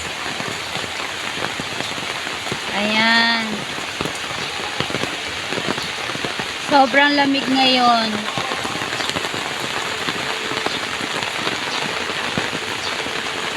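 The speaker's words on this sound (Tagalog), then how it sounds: "Ayan, tag-ulan na naman" Steady rain patters densely on a surface throughout, close and constant, while a voice speaks briefly twice over it.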